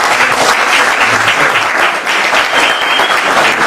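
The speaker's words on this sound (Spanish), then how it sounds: "Démosle un fuerte aplauso a nuestro Dios por la vida de nuestro hermano." An audience in a church during an anniversary service claps loudly and continuously, a dense wash of applause close by and held at a steady level, with no voices standing out.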